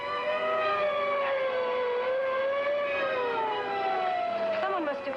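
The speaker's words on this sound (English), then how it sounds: "Someone must have called an ambulance." An ambulance siren wails with a long, gliding rising-and-falling tone, steady and moderately distant, with no talking over it.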